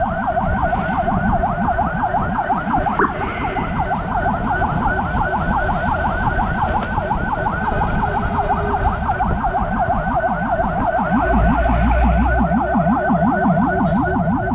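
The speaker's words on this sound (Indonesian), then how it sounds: "Suara LOWFREQ yang terdengar ini berasal dari sirene si ambulan." A loud ambulance siren wails continuously in a fast, rapidly rising and falling pattern, close and steady, with engine rumble underneath, in Indonesia.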